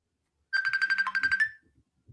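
A mobile phone ringtone plays once as a quick, bright burst of rapid repeated electronic notes lasting about a second, loud and close, then falls quiet apart from faint background sounds.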